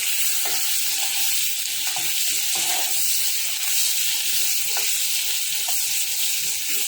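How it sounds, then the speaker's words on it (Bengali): Dried fish frying in a pan with turmeric and salt, giving a steady, dense sizzle that runs unbroken throughout, close and fairly loud, with faint clinks now and then and no talking. "এখন এটাকে ভালো করে ফ্রাই করব।"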